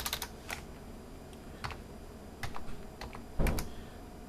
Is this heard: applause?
no